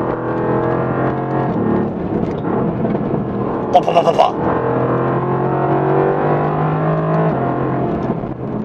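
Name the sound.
Mercedes-AMG GT R engine sound and exhaust pops on downshift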